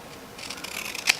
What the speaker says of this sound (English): I was going to cut this with these scissors